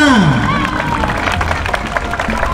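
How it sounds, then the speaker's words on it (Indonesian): An audience at a national competition round in Lampung Province, Indonesia, bursts into steady, dense applause and cheering that fills the whole stretch, opening with a voice sliding downward in pitch over the clapping. "Tepuk tangan semuanya."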